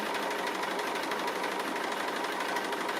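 Sewing machine running steadily for free-motion stitching of a tree appliqué on a quilt, a dense continuous whirring buzz close up that holds without pause and with no talking.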